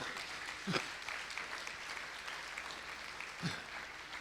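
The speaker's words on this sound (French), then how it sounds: "Nous devons applaudir cela." A church congregation at a special Sunday school service gives soft, distant applause, a faint continuous patter of clapping with a couple of brief louder thumps.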